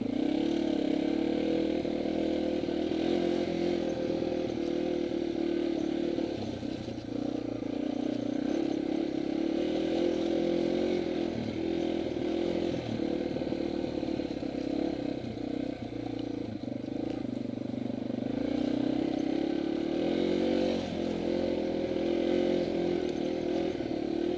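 A Yamaha dual sport motorcycle engine pulling hard in first gear near its top speed, a steady loud buzzing drone with slight rises and dips in pitch heard up close throughout.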